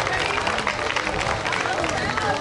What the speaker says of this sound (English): Let's give one more round of applause for all of the teams and especially Rachel Wyatt.